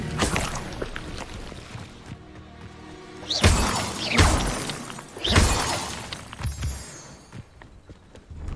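Expelliarmus spell cast in the video game Hogwarts Legacy, a few loud bursts of crackling, shattering magic blasts with sweeping whooshes, separated by quieter game ambience.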